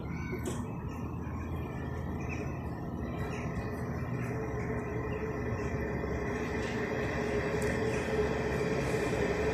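A passenger train to Nazilli rumbles steadily arriving at Selçuk station's first platform, a low continuous roar growing slightly louder, with faint birds chirping above it.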